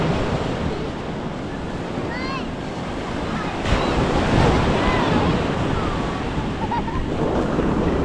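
Heavy ocean waves surge and break continuously at a river mouth under strong monsoon wind, loud and close, with steady wind noise buffeting the microphone throughout.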